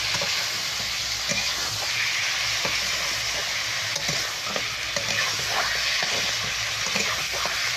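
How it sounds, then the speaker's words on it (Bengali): Meat fries in a pan with a steady, close sizzle and occasional stirring scrapes, continuous with no talking. "গোশটা মাংসটা একটু ভাজা ভাজা করে নেব।"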